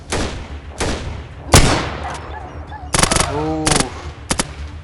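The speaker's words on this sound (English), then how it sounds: "I've got some heavy guns going on around here" Heavy gunfire in the video game Atom RPG: several loud sharp bursts of shots, some fast rapid-fire rattles, with a brief exclamation from a voice between them.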